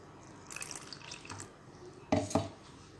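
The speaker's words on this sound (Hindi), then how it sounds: "अब इसमें मैं पानी डाल लेती हूँ" Water splashes into a bowl of spiced batter for a fried potato-peel snack, in two short bursts of pouring and trickling with quieter dripping between.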